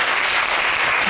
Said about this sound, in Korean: 오늘 이 시간 함께 해준 여러분 자신에게도 사랑과 응원의 박수 한번 보내보시기 바랍니다